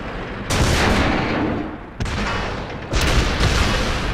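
Tank cannon shots in World of Tanks against Type 59s, three loud booming rounds at roughly even intervals, each with a long rumbling tail, no speech.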